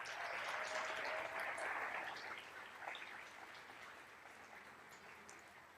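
Applause from the audience at a school board meeting, a soft, dense patter of many hands that is fullest at first and gradually thins and fades as it goes on.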